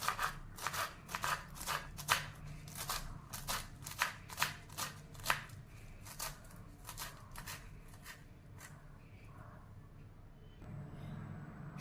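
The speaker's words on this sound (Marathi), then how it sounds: "तीन मिरच्या घेतलेल्या आहेत त्याही मी बारीक चिरून घेत आहे कोथिंबीर पण मी बारीक चिरून घेणार आहे" Green chillies and coriander being finely chopped with a knife on a board for onion paratha filling, a quick run of sharp, evenly spaced cuts that thins out and stops toward the end.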